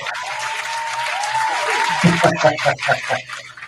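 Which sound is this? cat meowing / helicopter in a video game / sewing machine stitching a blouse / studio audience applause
studio audience applause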